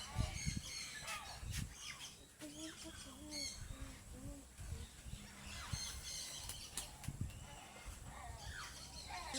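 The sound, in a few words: birds calling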